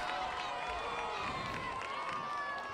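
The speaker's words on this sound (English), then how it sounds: "Nice crowd here tonight" Crowd in the stands at a night high school football game at Westwood, a steady murmur of many voices with faint cheering, and a commentator talking over it.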